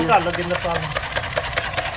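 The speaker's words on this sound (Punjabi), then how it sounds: "ਇਹ ਜੋ ਨਿੱਕੀ ਜੀ ਚੀਜ਼ ਆ ਇਹ ਕਿਸੇ ਚੀਜ਼ ਦਾ ਇੰਜਨ ਆ" A small homemade steam engine runs with a fast, steady chugging beat, heard close up under someone talking throughout.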